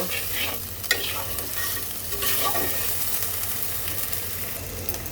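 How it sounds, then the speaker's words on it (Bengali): A spoon scrapes and stirs masala frying in a pan while fish curry is cooked, with soft sizzling under irregular metallic clinks and scrapes, close and moderately quiet, no talking. "এটাকে কয়েক মিনিট একটু ভাজা ভাজা করে নেব"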